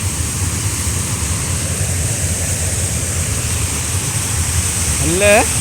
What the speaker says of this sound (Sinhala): මම දැන් ඇවිල්ලා ඉන්නේ ඇල්ලේ